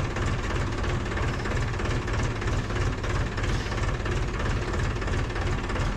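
Tractor engine running on an Indian farm field, a steady loud chugging rumble with a rapid knocking rhythm throughout and no talking.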